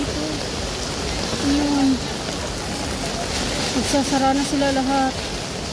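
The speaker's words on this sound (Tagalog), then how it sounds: "Malakas ang, ano, malakas ang ulan." Heavy rain pours down on a market where fruit vendors' stalls are shutting, a steady broadband hiss filling the scene while someone talks over it close by.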